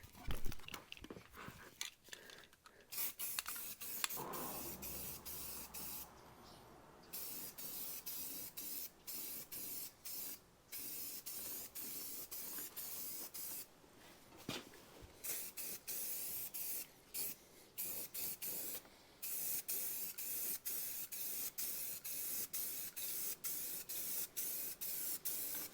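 Spray paint hisses from an aerosol can in repeated bursts of varying length while black coats go onto the bare-metal bars of a 1940 Mercury, with short gaps and clicks between sprays.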